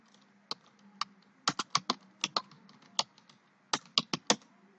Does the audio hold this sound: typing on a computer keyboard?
yes